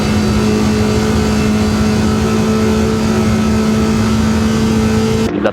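A Datsun race car in the No Hesi driving game on the Wangan Midnight highway pulls hard in fourth gear at around 220 km/h, a loud, sustained droning engine tone holding steady until it cuts off abruptly near the end.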